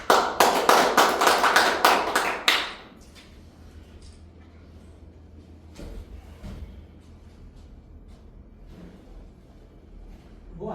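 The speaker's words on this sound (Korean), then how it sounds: "박수를 모시고 들어보도록 하겠습니다." Audience at a memorial society gathering claps to welcome a pastor to the podium, a dense burst of hand claps lasting about two and a half seconds, then fading into quiet room tone with faint shuffling.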